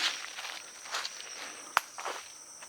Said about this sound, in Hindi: ये देखिए भाई पत्तों की आवाज़